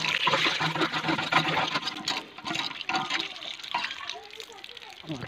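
Water gushes and splashes from a village hand pump in bursts, loud and close, while children and adults talk over it.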